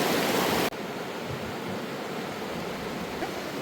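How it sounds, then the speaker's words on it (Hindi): A fast-flowing mountain stream on a road near Ranikhet rushes in a dense, steady roar, loud and continuous, with a brief level change near the start and no talk. "पानी का बहाव कितना तेज़ है देखिए।"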